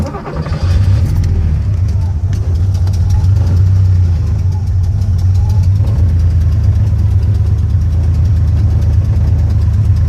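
A manual-transmission car engine idles loudly and close by, a steady low rumble that runs the whole time with slight surges, while voices talk intermittently over it.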